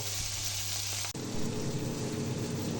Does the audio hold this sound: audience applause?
no